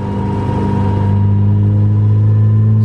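A turbocharged non-VTEC B18 engine in an EK Honda Civic hatch hums loudly and steadily on a dyno under light throttle, a close, sustained droning tone that holds at a steady pitch.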